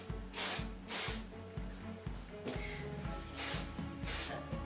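R+Co Outer Space flexible hold hairspray hisses from an aerosol can in four short bursts aimed at short fine hair, close and loud, over a steady background of light music.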